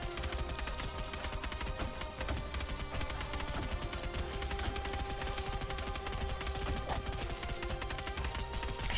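Dense, continuous crackling bursts and impacts of bleed explosions in Asgard's Fall: Origins pile up rapidly over a busy game soundscape, like rapid-fire explosions layered on top of each other.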